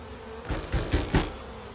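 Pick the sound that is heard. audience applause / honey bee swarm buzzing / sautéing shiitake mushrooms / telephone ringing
honey bee swarm buzzing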